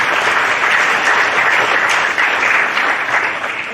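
Dense, loud applause from a science-talk audience rolls on without a break for a picked volunteer, then tapers slightly at the end.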